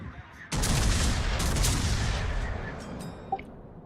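A heavy salvo of ship guns firing AP shells in World of Warships erupts with a loud booming blast, then rumbles and decays over a few seconds, with a faint later thud.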